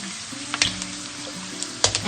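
Dry pork skin drops into hot oil and puffs, giving a steady close sizzle with scattered sharp pops and crackles throughout.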